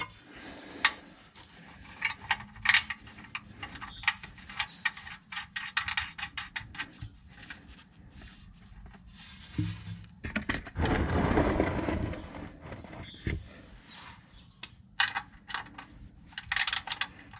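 A torque wrench on a 13mm socket tightens the oil drain plug to 20 foot-pounds on a 2020 Jeep Grand Cherokee Limited 3.6L V6, making quick close ratchet clicks in bursts with metallic taps and scrapes between them.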